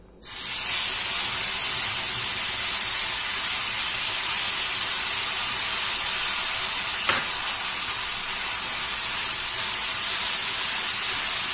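Ginger, cumin and green chili paste hitting hot oil left from frying koi fish gives a steady, close, loud hiss and sizzle that holds for the whole stretch, with one brief sharp clink partway through.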